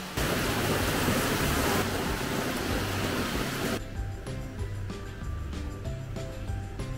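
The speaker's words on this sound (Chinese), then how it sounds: "这就是普吉岛的雨季，不一定什么时候就在下雨，而且每一次的雨其实都不小" Heavy rainy-season rain falls in Phuket as a dense, steady hiss, louder for the first few seconds and then settling into a softer, continuous downpour.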